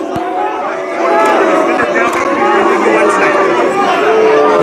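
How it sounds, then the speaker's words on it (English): Protesting university students crowd together and boo the vice-chancellor at a campus in Kanifing, with loud sustained jeering and overlapping shouts from the throng that swell after the first second. "They are booing the VC"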